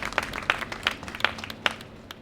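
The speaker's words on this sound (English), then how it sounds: "A round of applause for everyone here who makes this happen" Applause from a live audience at the International Festival of Arts and Ideas after a band performance, a thin scattering of claps with several sharp distinct hand claps near the listener, moderately quiet and steady.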